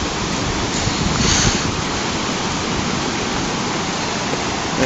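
A flooded river swollen by Hurricane Irene rushes in a steady, loud, broadband roar, continuous and unbroken, close to the listener with no voices.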